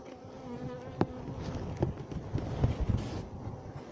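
Honey bees buzz around an opened beehive with a soft, continuous hum, close by and fairly quiet, broken by a few light knocks and bumps of frame handling.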